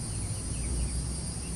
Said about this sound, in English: So this has insects buzzing in the background